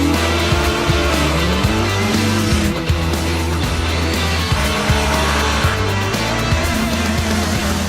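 Sport motorcycles race each other, their engines droning loud and close with shifting pitch as they rev and change gear, a continuous high-speed roar throughout.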